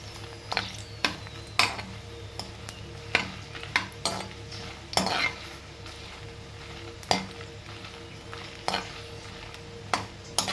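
Chilies fry in a pan for a peanut tomato chutney, a soft steady sizzle punctuated by repeated sharp clicks and scrapes of a utensil against the pan, fairly close and moderately quiet.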